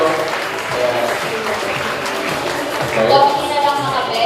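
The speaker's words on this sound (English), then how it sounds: "can we give a warm round of applause for everybody" An audience at a student colloquium on public service gives a warm round of applause, dense steady clapping with a swell toward the end, voices mixed in beneath.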